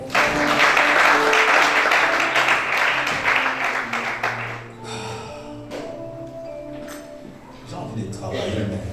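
Church congregation at a Sunday service applauding, a loud dense burst of clapping that gradually thins and fades, with voices and shouts over it and a swell again at the end.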